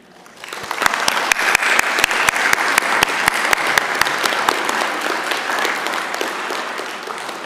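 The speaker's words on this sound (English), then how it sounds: "I would like to have all of us show our appreciation, first with applause" A church congregation applauds at an Earth Day celebration service, steady dense clapping rising quickly, with a few loud near claps standing out in a regular beat, then slowly thinning toward the end.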